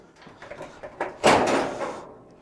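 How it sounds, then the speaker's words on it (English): A Whirlpool dryer door is pulled up off its bottom brackets, giving a few light clicks and rattles and then a louder scraping clunk of metal as it lifts free. "Just pull up on the door and they'll come off."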